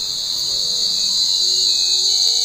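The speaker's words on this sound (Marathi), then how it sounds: "हा रातकिड्यांचा आवाज बघा किती येतोय" Crickets chirp steadily at night outside a home kitchen, a dense, continuous high-pitched trilling that stays loud and unbroken throughout, with no talking.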